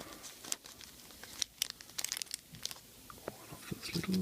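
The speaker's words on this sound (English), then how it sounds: "I'm gonna cut this open and" Plastic packaging holding small replacement lamps for a Sansui 1000X receiver is cut and pulled open, giving close crinkling, tearing and crunching bursts with quiet gaps between them and no voices.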